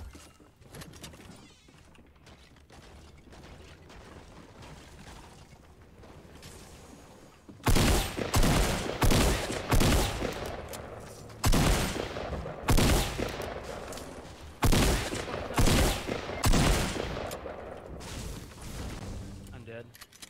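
Fortnite Battle Royale gunfire from the new SMG, with loud rapid bursts starting partway through and repeating over several seconds, heard under players' chatter.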